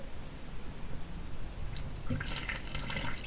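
Water sloshing and bubbling close by as a sponge is pushed under, with wet squishy splashes growing busier toward the end.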